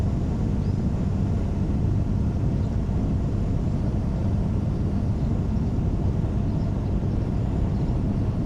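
A 2025 Kawasaki Ninja 1100SX motorcycle cruises on a touring ride, its engine a smooth, steady rumble blended with a constant broad roar of wind, loud and unbroken throughout.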